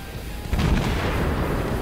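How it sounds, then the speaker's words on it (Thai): A deep, rumbling explosion with a dull low boom that swells and lingers as a heavy roar, like a torpedo striking a ship in the naval game World of Warships. "โดนตอร์ปิโดยิง"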